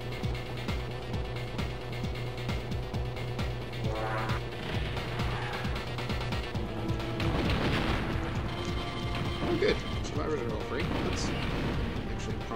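Missiles destroying buildings in the Blast Corps video game, with heavy crashing impacts and rumbling destruction building up under a constant mechanical drone and game music, with a voice talking through much of it.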